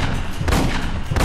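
A rocket launcher fires in the sci-fi shooter Aliens: Colonial Marines, producing a heavy, booming blast with rumbling low end and crackling noise, loud and close across a brief moment.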